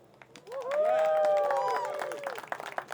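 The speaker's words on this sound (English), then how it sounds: "So give yourselves a round of applause." An audience at a talk applauds itself: broad, steady clapping that swells and then thins out, with a voice over it at first.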